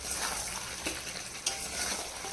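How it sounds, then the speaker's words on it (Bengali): Steady, close sizzling of curry frying and bubbling in a kadai, with two brief scraping clinks as it is stirred. "চরবর চরবর করে ফুটছে"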